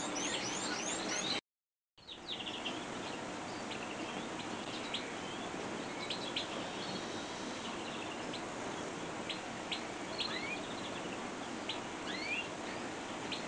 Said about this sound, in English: You can probably hear the crossbill spinking there